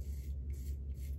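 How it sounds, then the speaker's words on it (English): Three short, hissing spritzes of aftershave spray after a shave, close to the mic and evenly spaced within about a second. "we'll put the aftershave on. Nice cool spritz."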